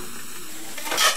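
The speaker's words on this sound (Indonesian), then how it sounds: "dapat digoreng ke dalam kuali berisi minyak panas" Renggining crackers fry in hot oil in a wok, a soft steady sizzle that swells into a brief louder hiss and crackle near the end.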